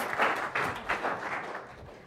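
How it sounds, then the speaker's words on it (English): A seminar audience at a project management exam-prep session gives a short, soft round of applause for a participant, brief scattered clapping fading quickly. "Give him a round of applause."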